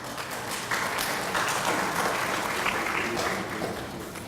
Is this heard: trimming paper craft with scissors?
no